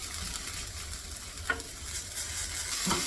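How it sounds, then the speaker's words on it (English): Shredded potatoes crisping in a hot pan for a turkey breakfast hash, a soft continuous sizzle with a couple of brief scraping stirs, fairly quiet and with no talk. "we got our potatoes crisping up. They're cooking through."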